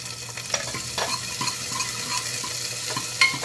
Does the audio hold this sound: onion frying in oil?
yes